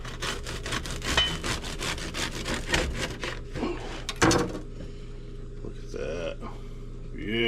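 A knife saws into a crusty slightly wheat sourdough loaf, rapid rasping back-and-forth strokes close up with a few crackling crust breaks, then quieter handling.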